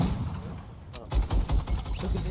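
Explosive RPG fire in an online trio cash cup video game match, several heavy low booms arriving in quick succession after a brief lull.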